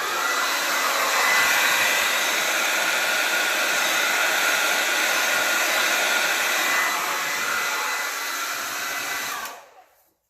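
A hair dryer blows across wet acrylic paint in a Dutch pour, a loud steady whooshing roar that runs for about nine seconds before cutting off abruptly.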